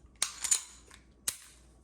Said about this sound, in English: drop the mag.